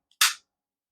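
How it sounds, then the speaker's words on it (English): A single sharp metallic click of a pistol's firing pin striking, brief and close, followed by silence. "you can audibly hear the firing pin striking"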